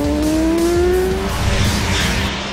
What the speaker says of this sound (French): Neutralisez vos ennemis dans des courses-poursuites intenses à travers la ville pendant qu'un de vos alliés conduit.